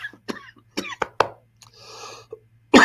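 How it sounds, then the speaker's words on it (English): A man coughs and chokes in a burst of sharp, close, loud coughs, followed by a rougher throat-clearing sound and another heavy cough at the end, with no speech in between. "Cough, choke."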